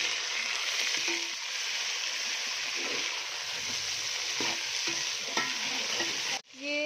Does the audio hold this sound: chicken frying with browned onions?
yes